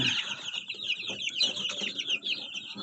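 Chickens and chicks, including a white chick, cluck and peep continuously at close range, high chirps layered over lower clucking with a faint flap of wings.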